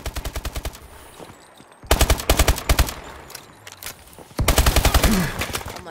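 Automatic gunfire from a gun in Call of Duty: Advanced Warfare, a ranked Demolition match. Loud rapid bursts of evenly spaced shots come in three separate strings, with short pauses between them.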